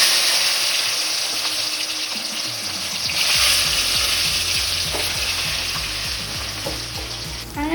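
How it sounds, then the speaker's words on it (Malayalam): Garden-fresh ivy gourd pieces fry in hot oil, giving a steady, close, loud sizzle with repeated scraping stir strokes through the second half. No one speaks. "അങ്ങനെ നമ്മുടെ കോവയ്ക്ക ഫ്രൈ ഇവിടെ മൊരിഞ്ഞ് വരാൻ തുടങ്ങിയിട്ടുണ്ട് കേട്ടോ."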